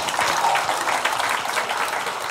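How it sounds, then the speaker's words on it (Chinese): An audience at a political discussion forum gives sustained applause for three speakers, a dense, even patter of many hands clapping from start to finish without speech. "我们也给这三位主讲人最热烈的掌声"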